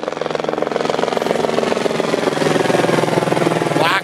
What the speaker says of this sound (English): Is that a black helicopter?